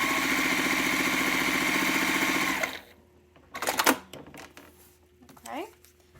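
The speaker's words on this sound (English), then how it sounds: "I'm going to sew down the dotted line" A sewing machine stitches fabric pieces for half square triangles, a steady fast mechanical whir running close and loud for nearly three seconds before stopping, followed by faint handling clicks and rustles.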